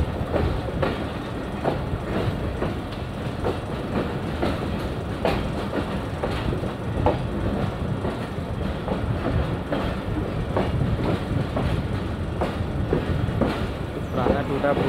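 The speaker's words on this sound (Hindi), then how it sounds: "ट्रेन अभी दारुल एहसान जंक्शन पहुंच चुकी है।" The Shalimar Express pulls into a junction, wheels clattering over rail joints in a steady clickety-clack rhythm with a continuous rumble, loud and close throughout.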